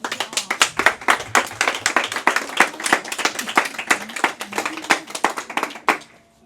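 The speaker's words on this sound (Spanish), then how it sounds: "Un aplauso al Señor." A church congregation claps during a worship service, distinct rapid hand claps in an irregular rhythm that stop abruptly near the end.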